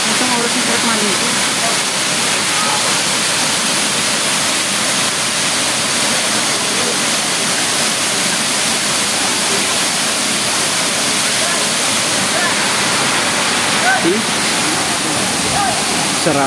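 Daranak Falls waterfall roars in a steady, dense, loud rush of falling water, continuous and unbroken throughout with no other sounds standing out.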